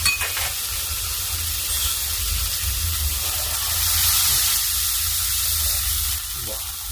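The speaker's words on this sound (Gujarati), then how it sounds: "પાણી રેડી ચડવા દઈએ." Water poured into a pan of frying Maggi noodles with garlic and chilli, a loud steady hiss and sizzle that swells midway and then eases off, with no talk.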